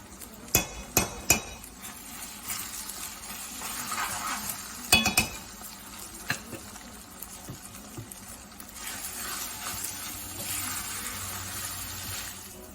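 Utensil scraping and clinking in a pot as Belizean stewed red beans are stirred with garlic and Worcestershire sauce, a few sharp knocks early on, then softer continuous stirring and faint sizzle, no voices.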